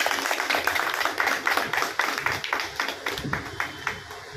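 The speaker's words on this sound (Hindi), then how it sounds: "माला पहना करके इनका स्वागत तालियों गड़गड़ाहट के साथ" An audience claps to welcome a guest being garlanded, producing a run of sharp, fairly loud hand claps that fall in an uneven, almost rhythmic pattern.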